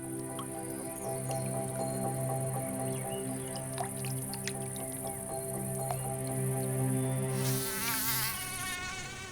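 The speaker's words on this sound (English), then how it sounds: "There's a myriad biting, stinging, and blood-sucking insects swarming about in the air." Swarming mosquitoes and other biting insects fill the air with a dense, continuous whining drone, several pitched buzzes layered together and close, with a higher fluttering whine rising near the end.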